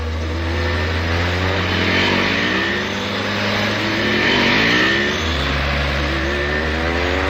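A car drives close past in a loud, sustained engine roar, its pitch sweeping as it approaches and recedes, with no talk over it.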